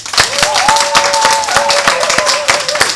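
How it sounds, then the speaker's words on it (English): An audience at a Rotary Club installation ceremony claps in a steady, even rhythm, fairly loud, while a sustained tone holds above the clapping. "I'm going to ask you to join me in a big round of applause"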